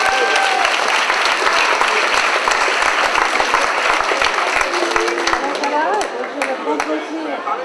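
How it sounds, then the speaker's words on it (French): Loud, dense crowd applause at an outdoor public centenary celebration in a town square, continuous clapping with voices mixed in, easing slightly near the end. "Alors, on l'applaudit deux fois plus."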